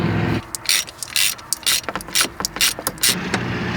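A ratchet with an extension undoes the 14 mm bolts holding a car alternator, giving close, loud bursts of rapid clicking separated by short pauses, with no talking.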